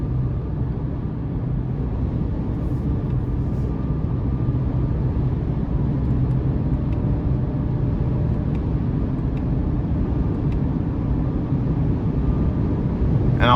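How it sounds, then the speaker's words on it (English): Steady road and engine noise from a 2023 Chevrolet Colorado LT with the 2.7-liter turbo engine cruising down the road, a continuous low rumble that holds even throughout, heard from inside the cab with no talking. "Just driving down the road here."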